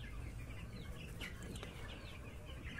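Broiler chickens in a poultry shed make soft clucks and chirps over a low, steady background hum, faint and brief.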